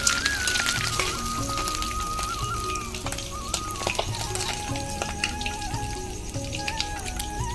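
Rohu fish heads fry in hot oil with a steady crackling sizzle, and metallic clinks and tonal clatter from utensils sound close by throughout. No one speaks.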